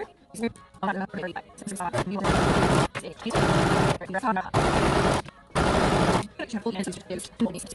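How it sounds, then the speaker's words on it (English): A straight stitch sewing machine runs in several loud bursts while stitching the sides of a bikini, a fast buzzing rattle that starts and stops, with a person talking in between. "I'm over here at my straight stitch machine, and I'm going to straight stitch the sides"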